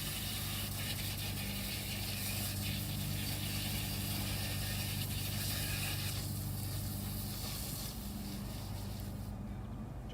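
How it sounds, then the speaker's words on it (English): A garden hose sprays water to rinse out a basket, a steady, close, hissing wash that runs without a break. The rush fades a little near the end, and no one speaks. "Right, so just hosing out our basket, turn your hose on."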